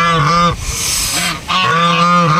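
A protective pair of geese honk loudly and close by in two long bursts of repeated nasal calls, with a short gap between them.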